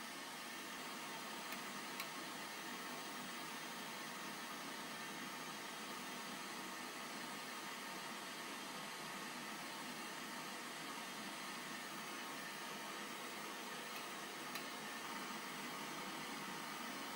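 An aircraft engine in an early-1980s Atari flight game roars at full throttle for takeoff. The steady, hissing electronic drone stays constant and unbroken throughout, with no talk.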